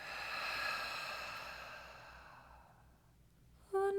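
A slow, deep exhale during a guided breathing meditation, a long airy breath out close to the mic that fades gradually over several seconds before a brief faint tone at the end; no speech.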